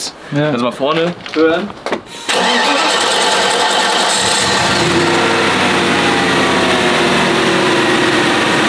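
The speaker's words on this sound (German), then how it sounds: "Boah, dieses lange Anlassergeräusch, das ist ja so geil. Ja, das ist M119 Anlassergeräusch." Mercedes 190E with an M119 V8 engine: a long starter cranking run after brief talk, then the engine catches and settles into a loud, steady idle.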